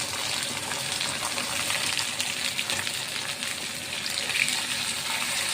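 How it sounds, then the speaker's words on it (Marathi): Tomatoes, green chillies and curry leaves frying with onion in a pan for a hotel-style garlic dal fry, giving a steady, even hiss and sizzle throughout. "आता त्यामध्ये मी जे टोमॅटो आणि 2 हिरव्या मिरच्या ते ॲड करून घेणार आहे आणि कढीपत्त्याची पानं सुद्धा ॲड करून घेणार।"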